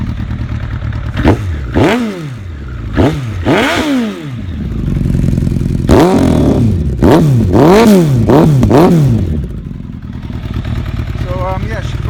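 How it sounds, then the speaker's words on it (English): Suzuki Bandit 1200 streetfighter motorcycle idling loudly up close, its engine rising and falling in a series of sharp throttle blips, some single and some in quick pairs, between a lumpy idle. "I'll give it a little blip of the throttle."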